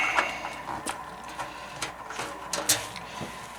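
Screws being removed from a Maco 750, with scattered close clicks, scrapes and small metallic knocks in an irregular rhythm, fairly quiet and with no talk.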